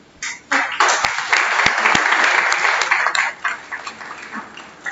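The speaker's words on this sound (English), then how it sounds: "both the faculty and the students need a big round of applause" A burst of audience applause at an architecture college convocation ceremony, many hands clapping steadily for several seconds before tapering off into scattered claps.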